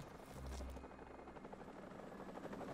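Helicopter in the video game Call of Duty: Modern Warfare Remastered, a steady low rotor drone and engine whine running throughout at moderate level, with no speech.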